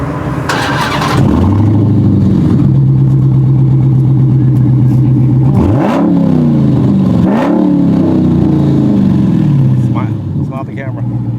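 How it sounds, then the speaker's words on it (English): A 1969 Dodge Charger on a Dodge Hellcat chassis starts and idles loudly, then revs sharply twice before settling back to a rumbling idle, close by. "Dad, are you gonna show them how the car sounds?"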